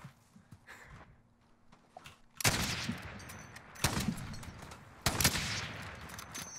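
Gunfire from the Call of Duty video game, with three sharp loud bursts at intervals against a quieter background of game ambience.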